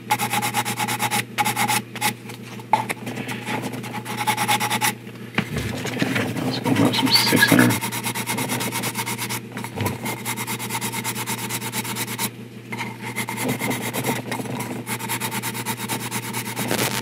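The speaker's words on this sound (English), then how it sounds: "I'm just very lightly sanding this." Sandpaper lightly rubs over a vinyl model kit figure, a soft, steady rasping scrape that continues throughout at close range with little pressure.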